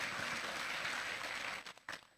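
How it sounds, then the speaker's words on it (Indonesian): Church congregation applauding at a Sunday worship service, a dense steady wash of clapping for about a second and a half, then breaking off into a few scattered final claps. "Tepuk tangan yang lebih meriah"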